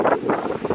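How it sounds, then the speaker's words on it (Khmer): Strong wind buffets the microphone in steady gusts outdoors near Sihanoukville, a broad roaring rush with no voices. "ហើយខ្យល់ខ្លាំង"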